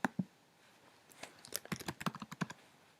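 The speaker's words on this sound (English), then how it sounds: "I just clicked and I'm going to type something" Quiet computer keyboard typing with a few mouse clicks while a type tool is used in Illustrator: an early click or two, then a brisk run of light keystrokes in close succession, near and soft, with no talk.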